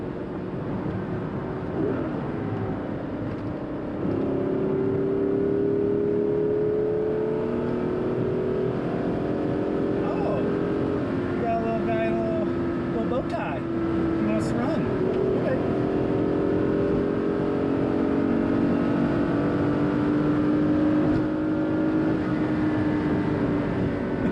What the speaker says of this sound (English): This Z8 drives fantastic on the highway.